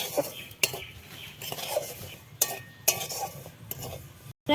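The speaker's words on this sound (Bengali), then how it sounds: "এইভাবে নাড়তে থাকতে হবে নিচে না পুড়ে যায়" Semolina is stirred as it fries in ghee in a pan, giving a close, steady scraping and rustling broken by several sharp clinks of the spoon against the pan.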